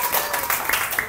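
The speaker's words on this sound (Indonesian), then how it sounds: "Tepuk tangan buat Marcel." Schoolchildren in a classroom give a short burst of clapping for a classmate, close and lively, lasting only a moment.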